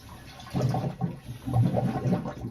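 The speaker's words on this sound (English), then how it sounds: "Okay, that's pumping back into the tank, so that's good." Electric water pump on a car charge cooler system pushing water into a tank, a close, gurgling, splashing liquid flow in uneven surges over steady background hum.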